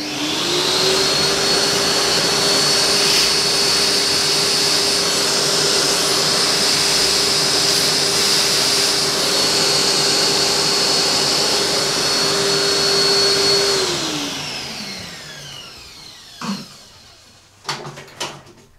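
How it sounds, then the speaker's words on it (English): A vacuum cleaner cleaning dust from a PC runs with a loud, steady whine and roar for several seconds, then winds down and stops, followed by a few sharp knocks. "I'm gonna use a vacuum cleaner"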